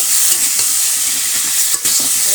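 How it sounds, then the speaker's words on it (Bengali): Ginger, cumin and chili masala being stirred and fried in a village kitchen, a loud continuous sizzle with repeated scraping strokes of the spoon against the pan. "মশলাটা দিয়ে দিলাম দিয়ে এখন এটা কষাবো আদা জিরা লঙ্কা দিয়েছি"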